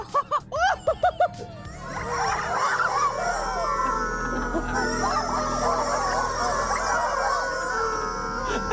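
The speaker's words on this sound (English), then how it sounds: "the chicken sounds so funny" Chickens squawking and crowing frantically as they are crushed by a tank, a dense, loud, continuous jumble of squawks and cackles after a few short sharp cries at the start, over a low mechanical rumble.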